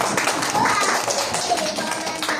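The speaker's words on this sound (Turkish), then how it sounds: "Zeynep balımızı alkışlayalım." A class of young preschool children clapping for a classmate at school, a dense patter of small quick claps filling the room, moderately loud and close, with faint voices mixed in.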